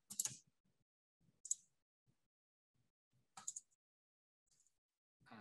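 A computer mouse clicks several times, sharp isolated clicks spaced irregularly with quiet gaps, close and fairly faint.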